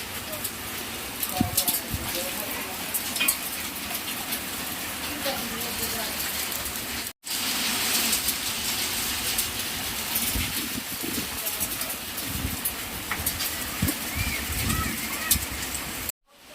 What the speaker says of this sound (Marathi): खूप मोठा पाऊस येतोय, तुम्हाला दिसत असेल